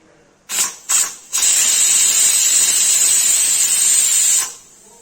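Two short hissing bursts, then a loud sustained high-pitched whistle of steam escaping a pressure cooker cooking liver for about three seconds before cutting off.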